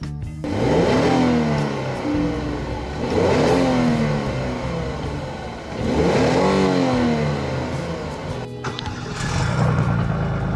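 A 2015 Hyundai Genesis engine revs up and settles three times in a row, each rise swelling and falling back. The revs are loud and close, with no voices over them.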